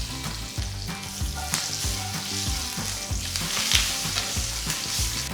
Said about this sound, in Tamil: கொஞ்சம் கருவேப்பிலை போடுங்க.